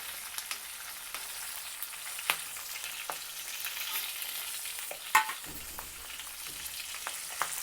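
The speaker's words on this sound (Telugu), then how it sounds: "పచ్చిమిరపకాయలు మాత్రం తుంచి వేయాలి, ఎందుకంటే వేడి నూనెలో అలాగే వేసేస్తే పేలే ఛాన్స్ ఉంది" Broken green chilies fry in hot oil for a tempering for karonda chutney, giving a faint, steady sizzle with scattered sharp pops and crackles and one louder snap, with no talk.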